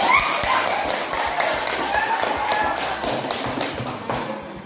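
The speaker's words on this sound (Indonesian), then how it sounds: "Oke, tepuk tangan" A classroom of seventh-grade pupils claps for several seconds, a dense patter of hand taps at moderate distance, with a few voices underneath.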